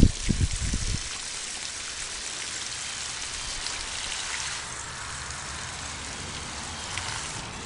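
Water pours steadily into a soil-filled kiddie pool grow bag in a garden, a soft continuous splashing hiss after a few louder thumps at the start.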